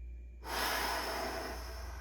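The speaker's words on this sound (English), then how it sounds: "take a breath," A slow, steady inhale of breath, close and soft, drawn out for over a second and a half with no talking over it.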